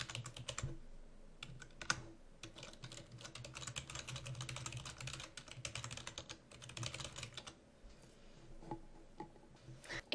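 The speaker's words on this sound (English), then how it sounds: "type in your site name" Fingers type on a computer keyboard in quick, irregular bursts of close, crisp key clicks, steady with brief pauses, with no voices.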